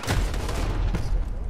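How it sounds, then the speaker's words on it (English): A new pistol firing three-round bursts in Call of Duty Modern Warfare, a few quick punchy cracks with booming low thuds, close and loud, without talk. "Sort of three round burst out of this new pistol"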